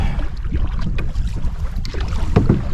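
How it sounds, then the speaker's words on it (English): Strong early-morning wind gusting across a lake, a loud rumbling buffet with splashing water around a canoe, steady throughout with no voices. "Barely 7:30 in the morning, and the wind is already ripping pretty good."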